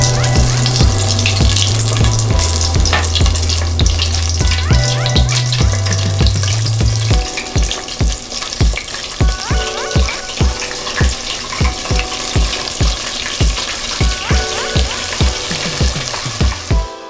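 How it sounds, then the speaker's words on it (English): Breaded fish fries in hot oil with a loud, steady sizzle. Over the first several seconds a low sustained hum sits beneath it, and after that a run of sharp, regular clicks and taps sounds over the bubbling. "Now you want to fry your fish until it's a delicious golden brown color"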